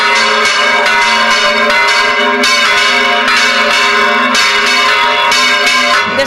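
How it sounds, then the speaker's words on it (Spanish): Big church bells in a small Spanish village in Aragón, swung and rung by hand by a team of eight people, peal loudly and continuously, with overlapping strikes ringing in a steady rolling rhythm and no voices. "momento de bandear las campanas"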